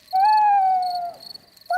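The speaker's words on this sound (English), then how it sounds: "What is that? That's an owl." A single long owl hoot in a children's cartoon, clear and close, a steady falling tone held for about a second over quiet.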